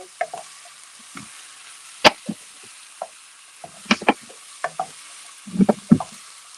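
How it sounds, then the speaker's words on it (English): Garlic and onions stirred through hot oil in a pan, with a faint sizzle under scattered utensil scrapes and knocks that come in short, irregular bursts; no one speaks. "Get it coated in oil, and mix it in with the garlic and onions"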